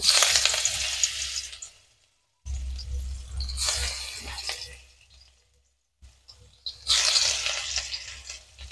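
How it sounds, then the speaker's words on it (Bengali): Cabbage snacks fry one by one in hot rapeseed oil in a karai. There are three loud bursts of crackling sizzle separated by short quiet gaps, close up and with no talking. "তেলটা গরম হয়ে গেছে, আমি একে একে এইগুলো ভেজে নেব।"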